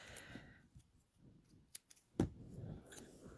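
Scissors snipping a smaller piece from a sheet of material, a few quiet, distinct cuts in a calm room, the sharpest one standing out near the end.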